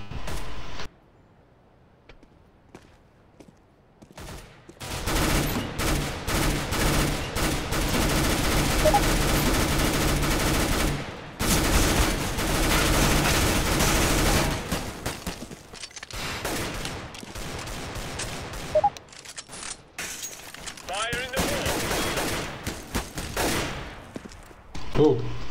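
Gunfire in the game CS:GO during a competitive match, with long loud bursts of rapid shots and heavy reports separated by brief quiet gaps, ending in a headshot.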